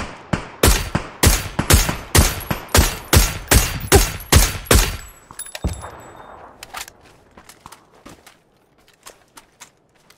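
Rapid volleys of video game gunfire crack out loud and close in a steady rhythm for about five seconds, then thin into sparse, fainter pops and metallic clinks.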